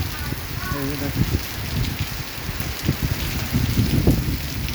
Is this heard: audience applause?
no